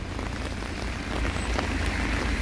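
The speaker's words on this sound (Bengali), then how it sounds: "মাত্র সন্ধ্যা হয়েছে, বাট প্রচুর বৃষ্টি হচ্ছে" Heavy evening rain pours down in winter in Italy, a dense, steady patter on surfaces, close and loud throughout with no voices.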